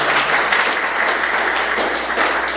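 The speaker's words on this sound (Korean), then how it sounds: "박수로 우리 자녀들을 축복하며 드리겠습니다." A church congregation claps for its children during a Sunday service, a short burst of close, steady applause filling the room throughout.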